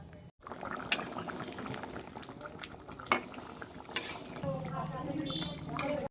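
Potatoes for chicken biryani stirred in a pot, with soft scraping and a few clinks of the spoon against the metal over a quiet simmering bubble, fairly faint and close.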